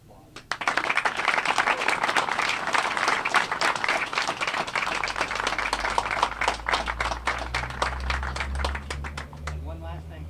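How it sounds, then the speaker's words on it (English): Sustained audience applause at a library dedication, dense clapping rising abruptly and holding strong for about ten seconds, with a low crowd rumble underneath. "Give yourselves a round of applause."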